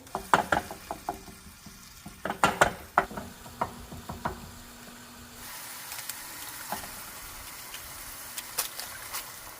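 Homemade Mexican-style chorizo, marinated for hours, hits a hot pan: clattering scrapes and knocks of a utensil come first, then a steady broadband sizzle settles in with occasional sharper taps over it.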